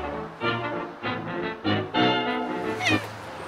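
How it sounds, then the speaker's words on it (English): A pet cat meows several times indoors in an old cottage, a string of close, fairly loud drawn-out cries spaced about half a second apart, with no talking. "This is Nikolai, my cat"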